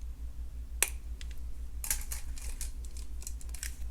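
A single sharp snip from cutters trimming excess beading wire on a long multi-strand necklace, followed by a few light clicks and taps close by, with no talking.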